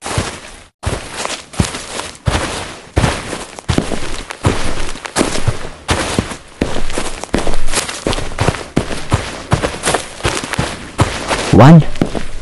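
Gunfire in the horror video game Hapunan: a rapid series of sharp bangs repeating irregularly throughout, loud and close, with talking mixed in between shots.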